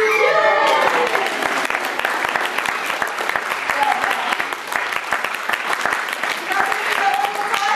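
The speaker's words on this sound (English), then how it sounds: "A nice big round of applause." Audience applause at a Pleasurewood Hills parrot show rolls on steadily as dense clapping, close and loud, with a few voices calling out over it.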